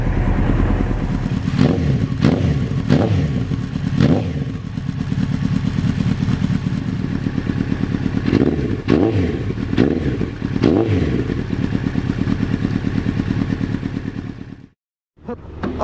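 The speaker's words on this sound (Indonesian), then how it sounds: "Merdu banget ya suara Honda." Close by, a Honda CBR 900 SC28 Fireblade motorcycle engine runs and is revved several times in short bursts over a rough idle, then cuts out briefly near the end.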